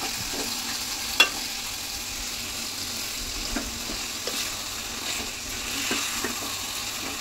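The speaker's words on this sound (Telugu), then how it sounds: "అప్పుడప్పుడు వచ్చి ఇట్లా కలుపుతూ ఉండాలండి కొంచెం, ఎందుకంటే ఆయిల్లోనే ఉడికిస్తాం కాబట్టి మాడిపోతూ ఉంటుంది" Green chillies fry in hot oil in a pan for chutney, giving a constant close sizzling hiss, with a few soft clicks and scrapes as they are stirred now and then.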